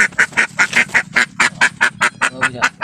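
A flock of ducks in the Philippine countryside quacking loudly and close, a rapid regular series of about fifteen nasal calls over under three seconds.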